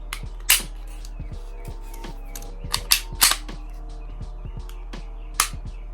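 Trigger reset clicks from an empty Canik TP9 Elite pistol, a handful of sharp, close mechanical snaps spaced irregularly over a few seconds against a quiet background hum.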